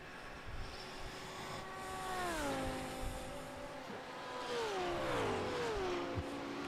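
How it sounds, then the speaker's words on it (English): Race car engines in the iRacing sim racing game, several cars revving and shifting with rising and falling pitch sweeps as they pass, a steady loud engine drone with no talk over it. "Good sounds, aren't they? Good sounding cars"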